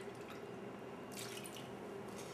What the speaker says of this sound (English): So I'm gonna add 2/3 cup of water to the mix here.